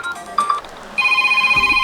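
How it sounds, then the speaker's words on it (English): A ringtone preview plays on a Sony Xperia 5 II phone: a short tone blip, then a bright, steady electronic ring melody with a pulsing rhythm that runs to the end, loud and close. "as you can see your ringtone has been changed"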